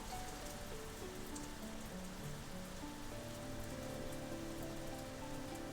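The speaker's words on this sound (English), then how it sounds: "It is tipping down." Heavy rain pours steadily in Old School RuneScape, a dense, constant hiss of drops on surfaces that stays even throughout, with a faint soft melodic line drifting underneath.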